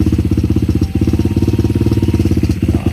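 A 125cc Lifan semi-auto motorcycle engine fitted with a Mikuni VM26 carburetor idles close up, a loud, steady, rapid single-cylinder putter with slight lumpiness and one brief dip in its rhythm.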